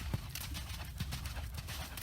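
A horse walks with muffled hoof clops landing at a slow, even pace under steady outdoor noise.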